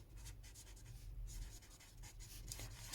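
A pen moves steadily across paper by hand, a continuous scratchy scribble with brief pauses between strokes, close and clear with no talking.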